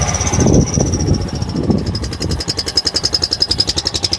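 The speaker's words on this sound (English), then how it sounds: "Now I'm gonna start it up and see if it blows out or not." A Pioneer 500 engine, with a blocked spark arrestor, cranks and catches into a close, fast, evenly pulsing idle.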